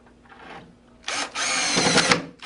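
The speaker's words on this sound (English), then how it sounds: "grab your drill with your Phillips head bit and grab 4 number 8x2 screws" A power drill with a Phillips bit whirs up in a short burst, then runs steadily at high speed driving screws into wood, close and loud, before winding down.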